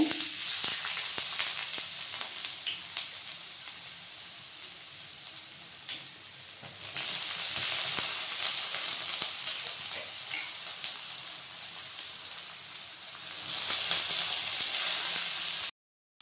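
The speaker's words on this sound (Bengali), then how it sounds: "কড়াইতে আলুটা দিয়ে এখন আমি সুন্দর করে ভেজে নিব।" Salted, turmeric-coated potatoes fry in oil in a wok for aloo bhujia, giving a steady, close sizzle with occasional stirring scrapes and a surge in intensity partway through.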